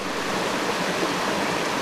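A steady, full rush of falling water roars continuously and evenly throughout, close and fairly loud, with no voices.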